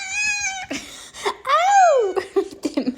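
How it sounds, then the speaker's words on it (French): An excited house cat yowls and meows in drawn-out, wavering cries, several in a row at close range, loud and insistent. "il s'excite tellement fort qu'il commence à miauler"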